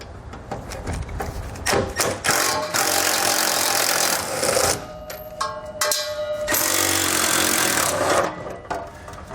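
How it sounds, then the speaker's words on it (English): A 13mm socket spins out the bolts holding the spare tire heat shield under a 2021 Chevrolet truck, with close, busy mechanical whirring and clicking in several bursts. "We'll remove these both with a 13mm socket."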